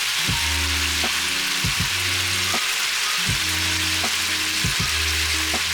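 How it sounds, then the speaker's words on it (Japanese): Ginger pork sizzling loudly in a hot pan after its sauce is poured in, a steady bright frying hiss with repeated low knocks and scrapes from the pan being shaken, close and continuous with no talking. "先ほどのこのタレ全部入れちゃいましょう。 バッと入れます。"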